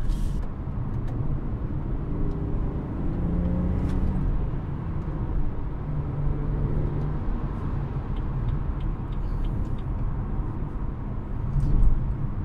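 Inside a BMW 340i sedan on a suburban drive from Fourways toward Sandton, a steady low road and engine rumble fills the cabin and holds an even level, with a slight swell near the end and nobody speaking.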